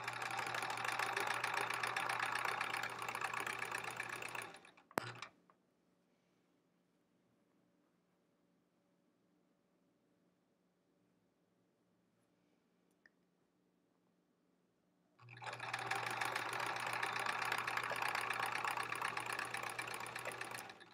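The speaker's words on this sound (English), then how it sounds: "And we'll sew this guy. And match up the edges as I go." A sewing machine stitches quilt strips in two steady, dense bursts of rapid mechanical whirring, each lasting several seconds, separated by a long near-silent pause with a faint click.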